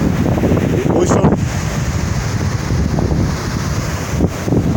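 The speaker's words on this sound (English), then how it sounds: "This is the ocean, this is Ocean View." Wind-blown ocean surf at Ocean View estate in Ibeju-Lekki, Lagos, a continuous rushing roar buffeting the microphone, with a brief voice or two near the beginning.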